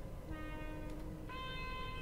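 Train horns sound in a metro driving game, two sustained chord blasts, the second higher and brighter, over a steady rumble of the moving train.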